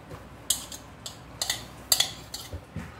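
Chopped onion and coriander are mixed in a bowl, the utensil knocking and clinking against the dish in sharp, irregular taps, close and moderately loud.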